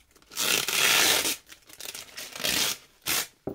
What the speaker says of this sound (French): Déjà plus facile à enlever que le scotch normal. Par contre, ça fait du bruit.